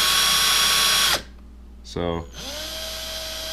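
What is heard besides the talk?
bent engine valve spinning in a drill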